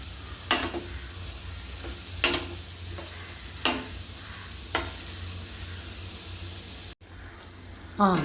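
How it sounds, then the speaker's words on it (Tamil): Kerala aviyal, a vegetable dish with ground coconut, is stirred in a hot pan, giving a soft constant sizzle with several scraping strokes spaced a second or two apart, close by. "நல்லா மிக்ஸ் பண்ணணும்"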